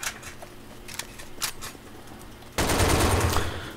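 Video game gunfire comes in a few scattered sharp shots and clicks, then a loud, sustained burst of automatic fire breaks out up close.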